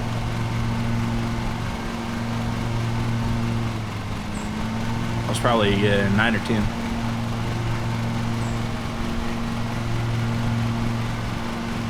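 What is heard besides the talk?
lawn mower engine running while mowing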